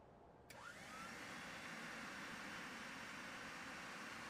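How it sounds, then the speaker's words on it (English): Vacuum cleaner run outdoors by a character in the life-simulation game inZOI, starting with a click and a rising whine that settles into a steady, quiet roaring hum. "Not him vacuuming outside. That is just one of the funniest things in the game."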